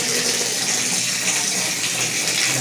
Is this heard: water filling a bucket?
yes